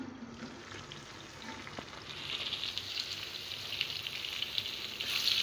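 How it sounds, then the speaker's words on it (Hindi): Tomatoes fry over a medium flame for kaleji masala, giving a soft, even sizzle and hiss that swells slightly toward the end, with no talking. "फ्लेम को अभी हमने मीडियम रखा हुआ है। टमाटर हमारे अच्छी तरीके से गल जाएंगे"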